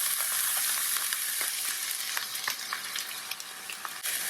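Onions fry in hot oil flavoured with cinnamon stick and green cardamom pods for a chicken Madras curry. A close, steady sizzle and crackle fills the scene, with soft stirring clicks and no talking.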